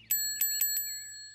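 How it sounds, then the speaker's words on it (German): Small cartoon bell rings four times in quick succession, bright and clear with a lingering metallic shimmer after the last strike, alone without talk. "Genau so hat das Glöckchen vorher geklingelt."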